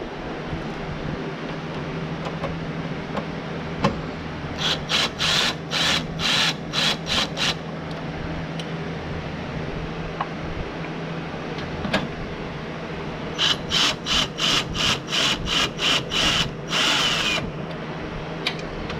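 A power drill whirs in two bursts of quick, pulsing trigger pulls, removing screws during an air intake install on a 2019 Honda Civic Sport 2.0L non-turbo, over a steady background hum.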